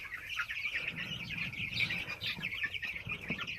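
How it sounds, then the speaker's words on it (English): At a chicken farm, a bird gives rapid, repeated high chirps close by, with a low rumbling background throughout. "Just a bird."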